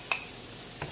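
Garlic and ginger sizzling in a hot stir fry pan with butter, a steady bright hiss with a couple of faint ticks, close and continuous.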